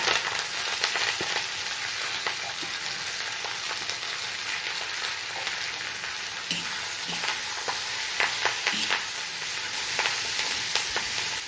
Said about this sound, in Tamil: வெங்காயம் பூரா எண்ணெயில் படுற மாதிரி நல்லா வதக்கி விட்டுக்கணும்